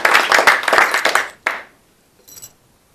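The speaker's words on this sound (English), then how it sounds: "big round of applause for Bill." Audience applause for a volunteer named Bill after a magic trick on stage, a burst of clapping for about a second and a half that breaks off abruptly, followed by a faint, brief tinkle.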